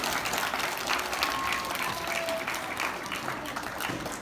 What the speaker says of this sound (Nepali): सबैले एकचोटि उहाँहरूलाई ताली बजाएर सम्मान गरिदिनु